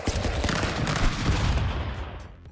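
Gunfire in the physics fighting game Stick Fight: a short, dense burst of rapid shots over noisy game sound that fades toward the end.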